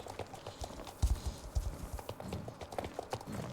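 Horse hooves clip-clop in a short run of sharp, close strikes, several loud clustered beats over a faint background hum with no voices.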